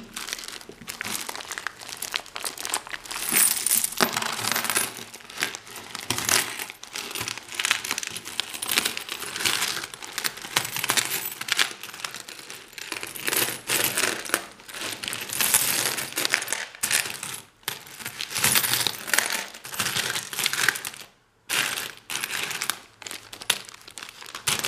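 A large lot of about 400 circulated coins, including euro cents, is sifted, handled and dropped, giving steady metallic jingling and clinking with crinkling packaging over roughly 25 seconds, close and fairly loud without talk.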